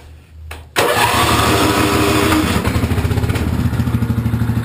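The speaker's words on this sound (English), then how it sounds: "14-horse Kohler Command. Thing runs like mint." A Craftsman lawn tractor's 14 hp Kohler Command engine cranks and catches, then runs loud and close at a steady fast idle with a rhythmic, slightly pulsing throb.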